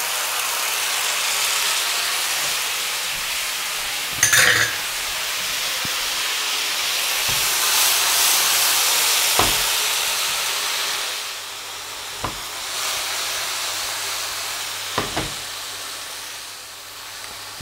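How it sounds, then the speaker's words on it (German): Balsamic vinegar sizzles and reduces with mushrooms in a pot for a vegan dark sauce, giving a steady broadband hiss with a few sharp pops and clicks scattered through it. "Wichtig ist nur, dass wir den Essig komplett wieder einkochen, damit er die Säure verliert."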